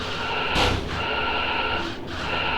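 A stock car crashes into the door of another car during a 2005 Stock Car Pro Series race at Kentucky, a loud single impact thud with broad noise around it, followed by sustained roaring track noise.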